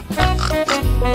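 A pig oinking in a short series of close, loud grunts, sounding like a voiced imitation in a cartoonish style.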